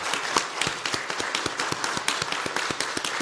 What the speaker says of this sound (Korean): 우리 하나님께 한번 감사와 영광의 박수를 한번 올려드렸으면 좋겠습니다